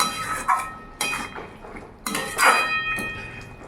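Half-boiled potatoes are stirred in a pot while cooking ponkh-style okra and poppy seed, giving several sharp metallic clinks and scrapes of a utensil against the pot at irregular intervals, fairly close, with no talking.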